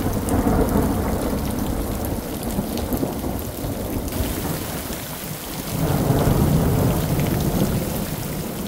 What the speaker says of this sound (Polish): To jednak deszcz. I to wcale nie taki mały. Będzie mokro, nie ma co, bo to nawet burza.